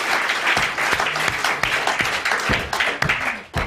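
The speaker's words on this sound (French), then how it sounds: "C'est Zitrone qui applaudit comme ça." Applause in a French TV game-show studio, 1992, with Zitrone beating his hands on a table: loud, dense clapping punctuated by sharp, irregular slaps and thumps throughout.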